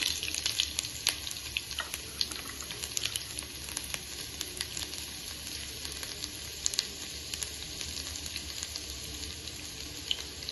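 Shallots frying in hot oil after mustard seeds have finished popping, a dense continuous sizzle with crackly pops, close up and without talk.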